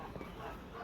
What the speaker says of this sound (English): They have lots of little yappy dogs,